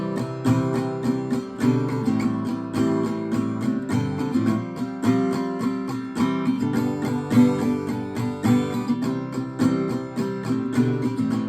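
An acoustic guitar strums the chorus chords of a song, steady rhythmic strokes ringing clearly and up close with no voice.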